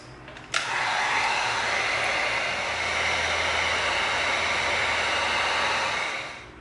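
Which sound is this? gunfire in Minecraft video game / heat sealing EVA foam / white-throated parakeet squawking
heat sealing EVA foam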